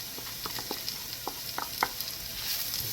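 Spoon stirring sautéed potatoes with bacon bits and seasoning in a pan, a string of soft scraping strokes over a steady background sizzle, close and fairly quiet.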